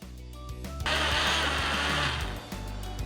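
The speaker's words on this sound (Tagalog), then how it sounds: "pag natapos na yan i-blend, isasalin natin yan sa bottle" A blender whirs through onion and paombong vinegar, starting low and quieter, then revving up to a loud, steady motor whine with churning liquid that eases slightly at the end.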